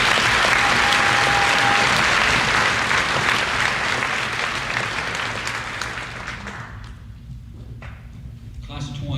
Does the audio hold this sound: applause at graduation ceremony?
yes